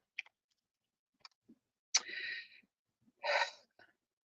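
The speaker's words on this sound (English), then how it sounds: "Sneezed?" Two sharp, breathy sneezes come a moment apart amid small clicks and breaths, close and otherwise quiet.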